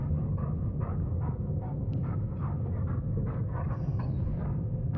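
A dog-like monster growls low and rough in I Was A Teenage Exocolonist, a steady rumbling snarl with pulsing grunts that holds loud and close for the whole stretch.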